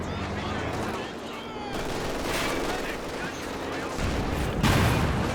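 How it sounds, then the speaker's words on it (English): In a Company of Heroes 2 match, a mortar pit lobs rounds at an AT gun, with repeated explosive thumps and battlefield gunfire mixed with a commentator talking over the action. "AT gun getting decrew by that mortar pit out the back"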